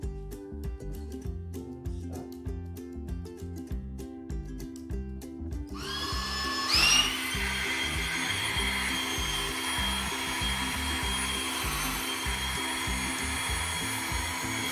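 An electric Max Pump 2 air pump runs steadily as it inflates a sleeping bag through a rubber nozzle. A constant whirring drone comes with a fluttering hum, swells briefly midway, then holds at a loud, even level.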